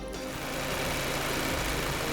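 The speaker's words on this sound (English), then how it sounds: "Here you can see serious engine vibrations caused by a defective alternator pulley, especially at idle speed." A car engine idles with heavy vibration from a defective overrunning alternator pulley, a dense, steady rumbling and rattling drone, fairly quiet and without talk.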